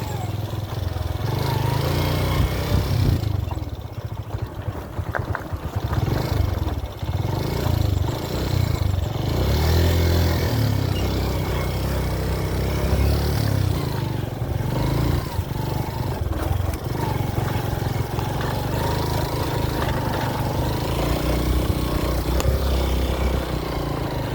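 A motorcycle engine runs steadily throughout, a low rumbling drone with some clatter and faint voices in the background.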